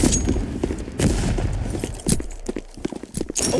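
Gunfire in the Counter Blox shooter game: a rapid string of sharp, loud shots with irregular spacing, some clustered in quick bursts, over noisy in-game ambience, with no talk.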